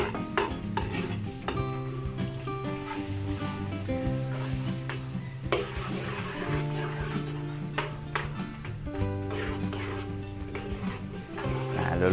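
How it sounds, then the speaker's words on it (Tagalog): Garlic frying in margarine in a pan, a steady crackling sizzle with frequent metal taps and scrapes from a utensil, going on without a break and without speech. "Luluto-lutoy lang po natin yung ating bawang."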